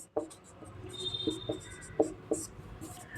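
Pen or pencil scratching on paper as words are written by hand, a few short strokes and taps in a quiet room, soft and close.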